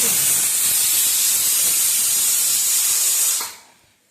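A pressure cooker in a home kitchen lets out a loud, close, continuous hiss of steam that cuts off abruptly near the end, leaving quiet.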